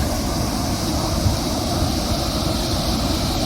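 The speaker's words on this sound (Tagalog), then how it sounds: "malakas yung agos ng waterfalls" A powerful waterfall in Europe: rushing water roars in a dense, constant wash of noise, loud and unbroken throughout.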